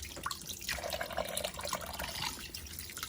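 Tap water running and splashing while raw beef is washed piece by piece in a kitchen sink, a steady close wash of liquid with small drips, no voices.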